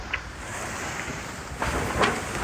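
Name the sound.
rough sea waves and wind around a sailing boat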